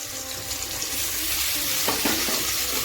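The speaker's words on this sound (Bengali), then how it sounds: "আমটা ভালো করে নেড়ে দিয়ে দেব লবণ ও হলুদ" Raw mango pieces stirred with salt and turmeric in a hot pan, a steady close sizzle with scraping spoon strokes and no talk.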